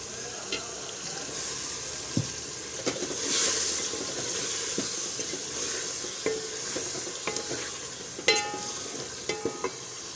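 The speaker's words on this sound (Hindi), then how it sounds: "इसको भूनना स्टार्ट करते हैं" Chicken curry with spices, tomato and a splash of water frying in a pan, a steady sizzle broken by repeated scraping and clinking stirs of a spoon against the pan.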